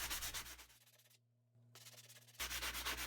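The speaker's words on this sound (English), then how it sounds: "I'm going to knock off some of the high parts from the pitted surface using a sanding ball." A sanding ball rubs steadily against the pitted, rusty surface of a metal pry bar, a close, harsh grinding that pauses briefly midway and then resumes.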